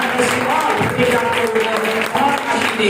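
An audience at a gathering applauds heavily, dense continuous clapping filling the room throughout, with a voice faintly audible beneath.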